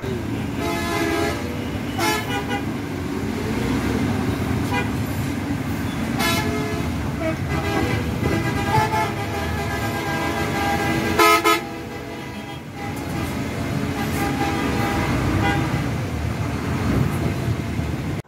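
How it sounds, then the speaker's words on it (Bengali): Bus horns honk repeatedly in a stalled highway traffic jam at night on a long-distance route to Dinajpur, Bangladesh, sounding loud and close in several bursts over a steady engine rumble. "আমাদের বাসের ড্রাইভাররা হর্ন দিয়ে দিয়ে তাদেরকে উঠাচ্ছিলেন আর কি।"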